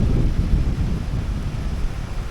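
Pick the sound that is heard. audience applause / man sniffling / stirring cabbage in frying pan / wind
wind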